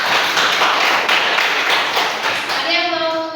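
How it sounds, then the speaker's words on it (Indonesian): Classroom students clap for a group that has just finished presenting, with many hands producing a dense, lively round of applause that lasts about two and a half seconds. A voice follows as the clapping dies away. "Oke, tepuk tangan dulu untuk kelompok."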